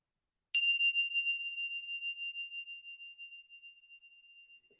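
A single bright ding of a small bell rings out once and slowly fades over several seconds in otherwise quiet surroundings.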